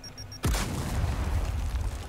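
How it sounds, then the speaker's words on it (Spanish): A grenade explodes in the video game Gears of War 4 with a sudden loud boom after a brief beeping, then a deep rumbling tail that lingers for over a second. "Muy bien, ha sido muy real. Esa explosión."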